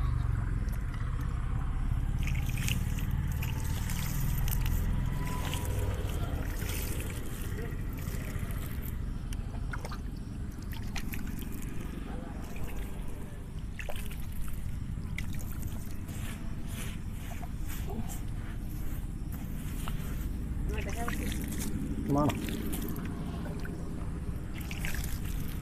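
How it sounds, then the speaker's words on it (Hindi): About three litres of water are poured and mixed into rice being prepared for puffed rice, giving a continuous sloshing trickle over a dense, steady mechanical rumble. "इसमें हम 3 लीटर पानी अभी मिक्सिंग करेंगे।"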